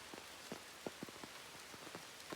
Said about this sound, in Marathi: पाऊस आलाय